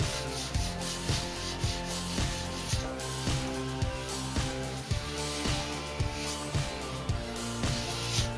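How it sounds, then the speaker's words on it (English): An alloy wheel for a seventh-generation Toyota Celica is hand sanded with 800-grit paper to remove paint nibs, giving rhythmic scratchy rubbing strokes close up, with no talking. "I'm actually just going around denibbing, taking any little areas out that I'm not happy with. Just with a little bit of 800."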